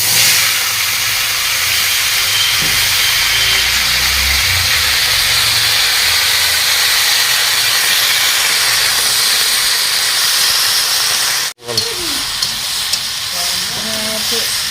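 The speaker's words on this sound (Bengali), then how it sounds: "পেঁপেটা একটু ভেজে নিলাম।" Papaya pieces fry in hot oil with curry leaves in a pan, making a loud, continuous sizzling hiss that cuts off abruptly for a moment, then resumes with faint clinks.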